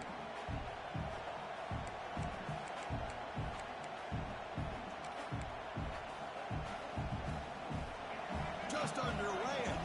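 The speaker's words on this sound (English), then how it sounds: "this home crowd is fired up and ready to make a difference today." Home stadium crowd in a college football video game keeps up a steady roar, with a rhythmic thumping chant running through it and commentary voices over the top.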